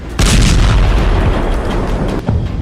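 An explosion in Tartus, Syria, hits with a sudden heavy boom and then a long, loud rumbling roar that slowly decays, with no voices.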